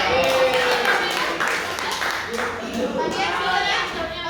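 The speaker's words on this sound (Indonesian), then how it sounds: "Tepuk tangannya dong untuk dia." Students in a classroom clap for a classmate after a group presentation on Faraday's law, a dense, moderately loud patter of hand claps that continues under overlapping voices.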